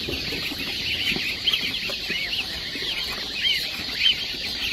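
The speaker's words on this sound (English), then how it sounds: "These are African goslings." Many goslings, including African, White Chinese and Toulouse breeds, peep in a dense, continuous high-pitched chorus at a hatchery, with occasional louder chirps standing out close by.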